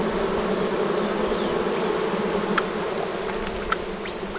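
Bees swarming around a hive during honey harvesting, a dense, steady buzzing drone close to the listener, with individual insects passing nearby now and then.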